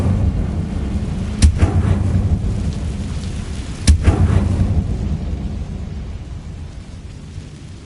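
Incendio fire spell cast in Hogwarts Legacy, two sharp booming bursts a few seconds apart over a rumbling, rain-like roar that gradually fades toward the end.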